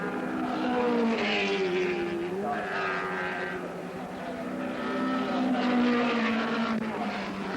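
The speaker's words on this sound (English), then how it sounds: "Elford is back in the lead, but now is harried by Rodriguez in the John Wyer Porsche." John Wyer Porsche race cars of the 1970s racing on a circuit, a sustained, loud engine drone with rising and falling pitch as cars pass, heard alone without commentary.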